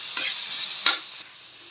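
Pork fat sizzles in a pan while being sautéed for laing, a steady close hiss with a couple of sharper stirring scrapes, no talk.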